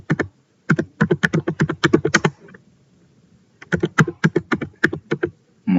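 Rapid bursts of typing on a computer keyboard while writing SystemVerilog testbench code, with two dense runs of close, crisp key clicks separated by a short pause, and no voices.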